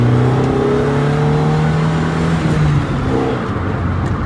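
A 32-year-old Honda CRX HF drives and accelerates, its engine a steady, loud hum rising slowly in pitch from inside the cabin before easing off.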